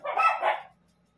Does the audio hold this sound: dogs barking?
yes